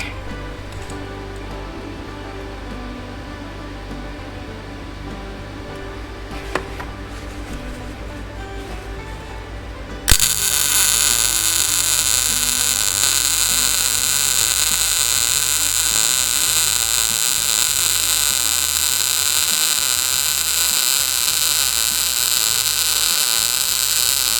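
A budget welder laying a flat weld pass, heard as a steady, loud broadband crackle that starts abruptly partway through and holds evenly to the end, preceded by quieter low hum.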